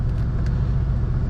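Low, steady engine rumble from a Mercedes C63s AMG being driven, heard from inside the cabin as a constant deep drone with no talking.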